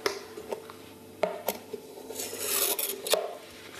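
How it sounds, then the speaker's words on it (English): A knife scrapes and taps around the edges of a dish of set vegan marshmallow dusted with tapioca starch, giving a few close clinks and soft scraping strokes in a quiet kitchen. "I'm just going to cut around the edges of the dish"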